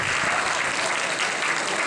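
An audience at a Gujarati community Diwali celebration applauds continuously, a dense, even roar of many hands clapping together at a steady moderate level.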